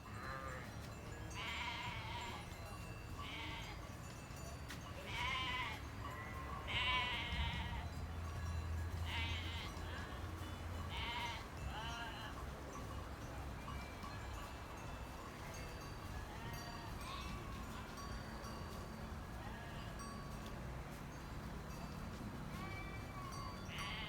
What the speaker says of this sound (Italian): Sono arrivate le pecore, finalmente sono scese dai pascoli.